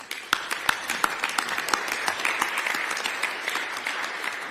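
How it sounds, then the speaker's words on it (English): An outdoor civic gathering for a city anti-graffiti and beautification project breaks into a steady round of applause, crisp individual claps standing out over a dense, moderately distant crowd. "So a huge round of applause for this incredible work"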